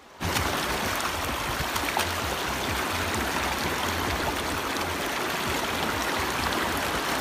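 A flowing river stream rushes steadily and loudly, a continuous broadband wash of water that starts abruptly and holds without a break.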